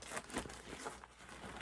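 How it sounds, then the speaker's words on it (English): A small plastic bag crinkles close by in a steady, continuous rustle with brief louder crackles, no voices. "you're just getting a little plastic bag here."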